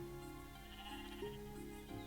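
Sheep in Equilinox give a faint, wavering bleat, a short quiet call over a soft game music background.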